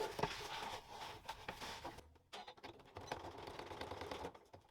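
Sewing machine stitching a box around Velcro on a double zipper fabric pouch, a rapid mechanical chatter running in bursts with a brief pause partway through, close and quiet.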